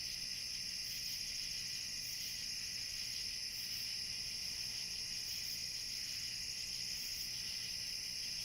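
Crickets chirp steadily at night in the woods, a dense continuous high trill layered in bands that holds unbroken throughout, fairly faint and with no voices.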